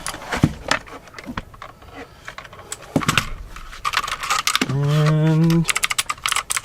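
A cheap all-plastic mechanical keyboard with blue switches, plastic top plate and plastic bottom, clacks close up in quick irregular bursts of sharp clicky keystrokes, interrupted by a short held tone, with someone talking in between.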